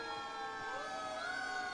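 Fire engine siren wailing at a holiday night parade, rising and sweeping tones heard from a distance, faint but continuous with no talking.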